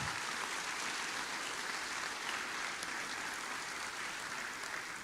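A church congregation applauding, a soft, continuous wash of many hands clapping, heard from a distance and fairly quiet, with no speech over it.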